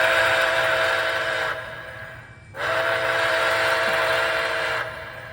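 An MTH Nickel Plate Road model steam locomotive sounds its steam whistle twice, each a loud, sustained chime-like blast of about two seconds, with a brief pause and soft mechanical hum between them.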